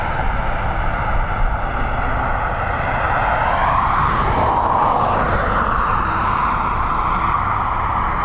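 A jet airplane roars steadily at Dublin Airport during reverse operations, a loud continuous engine rumble that swells in pitch and intensity midway as the aircraft passes close by.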